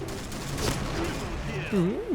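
Gunfire in the online shooter game Point Blank: dense, noisy bursts with one sharp shot near the middle, mixed with gliding in-game tones toward the end.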